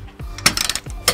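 Ratchet with a 19 millimeter socket tightening a trailer hitch stud on a 2000 Chrysler Town and Country, two quick, close metallic clicking strokes separated by short pauses, with no talking.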